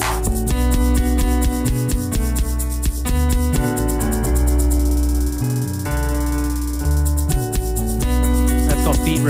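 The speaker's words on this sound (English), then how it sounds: "That's called beat repeat." A music loop runs through a beat-repeat effect, its drums and chords chopped into stuttering repeated bursts, loud and dense throughout, with no talking.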